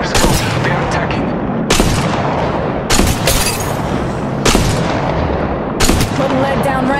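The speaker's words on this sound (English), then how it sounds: "Shots fired at me." Gunfire in the Apex Legends Mobile battle-royale game, loud bursts of shots recurring every second or two over constant combat noise, with character voice lines.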